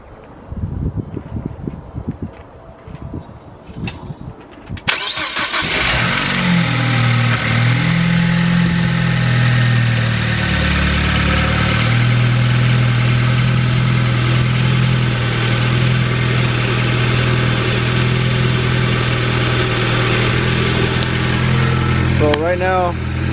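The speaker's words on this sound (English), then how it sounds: "what I'm gonna do right now is just start it back up" A built engine in a Ford Focus ST cold-starts after some handling noises, catching with a loud crank and flare, then settles into a steady, loud, slightly uneven idle that holds for the rest of the clip.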